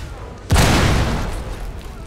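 An RPG blast in the mobile shooter Rules of Survival bursts out suddenly as one loud booming hit, followed by a long rumbling decay under background game noise.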